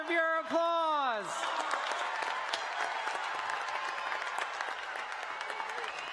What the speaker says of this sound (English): They deserve your applause.